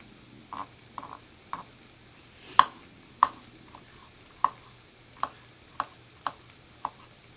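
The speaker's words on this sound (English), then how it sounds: "a paring knife may be a little bit better for the chopping piece" A paring knife chops garlic cloves on a cutting board for white chicken chili, a series of about a dozen light, evenly spaced taps, close and fairly quiet, with no talking.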